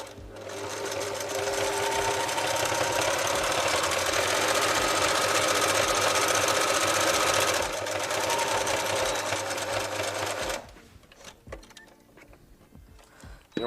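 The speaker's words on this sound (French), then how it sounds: "on a 3 machines à coudre qui sont réglées toutes les 3 différemment" Sewing machine stitching paraglider suspension lines in a repair workshop, a steady, loud mechanical whirring hum running continuously for about ten seconds before stopping, followed by faint handling noise.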